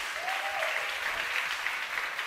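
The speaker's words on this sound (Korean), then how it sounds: "우리 박수 쳐주길 바랍니다." A church congregation claps together during a sermon, a fairly soft, even patter of many hands lasting a couple of seconds without speech.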